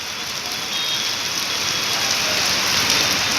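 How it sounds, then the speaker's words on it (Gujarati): Heavy rain pours steadily in a dense, continuous hiss that swells slightly louder partway through, with no voices. "એકદમ ભક્કમ વરસાદે માહોલ બનાવી દીધો છે"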